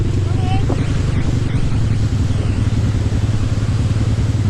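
A motorcycle engine idles and rumbles on a mountain trail ride in Tacadang via Alilem, a steady low drone mixed with wind buffeting the microphone, while people talk over it.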